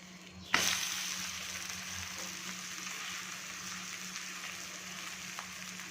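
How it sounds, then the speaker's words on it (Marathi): Onion lachha paratha sizzles in oil on a hot pan, a steady crackling fry that starts with a sharp burst as it hits the oil, then settles into continuous soft sizzling. "आलटून पलटून ऑइल लावून छान भाजून घेणार आहोत"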